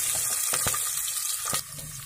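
Shallots and curry leaves frying in hot oil, a bright continuous sizzle with a few sharp crackles and pops, close and steady with no voices.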